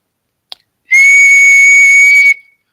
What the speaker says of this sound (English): So you can hear the sound of my whistling, right?